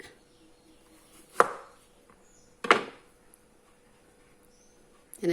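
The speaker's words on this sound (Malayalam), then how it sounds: "ഇങ്ങനെ നമുക്ക് ഈ പിണ്ടി മുഴുവൻ അരിഞ്ഞെടുക്കാം" Two sharp knife chops through a banana stem cut into rounds, well spaced and fairly close, with a third cut starting at the end over a quiet room.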